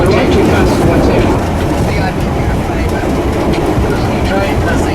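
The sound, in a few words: Silver Fern railcar train running on rails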